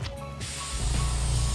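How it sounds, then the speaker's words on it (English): A steady, close hiss of an airbrush gun blowing straight alcohol through, with a brief mechanical click as the trigger engages before the spray strengthens. "I like to fill it up with just straight alcohol, and I like to just blow it through."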